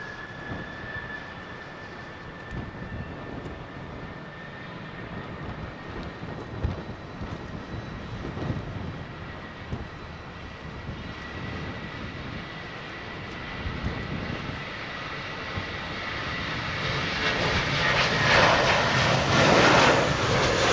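An airliner departing from Heathrow on an intersecting departure, its jet rumble distant at first and then slowly swelling into a louder roar toward the end.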